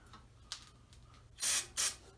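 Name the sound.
brake cleaner spray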